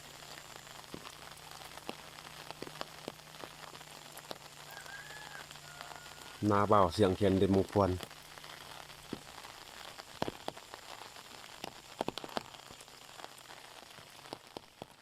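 Steady rain falling on rice fields at Muang Phuan, Laos, a constant patter and hiss through the whole stretch, with a brief reedy khaen-like musical burst standing out loudly in the middle.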